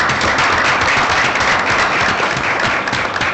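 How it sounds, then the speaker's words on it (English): Steady applause from an audience at a school board of education meeting, loud and close, a dense wash of clapping holding evenly throughout with no speech over it. "How about a round of applause for this gentleman's effort?"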